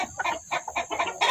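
A Rhode Island Red hen that seems unwell clucks close by in a quick run of short, throaty bursts, sounding alone and fairly loud.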